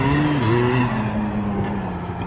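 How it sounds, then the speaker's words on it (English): A quad bike zips through a big open field, its engine a steady, fairly loud drone that shifts pitch slightly as it moves around. "I got a quad zipping through big huge field behind me"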